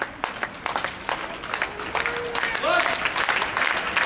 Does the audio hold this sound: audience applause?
yes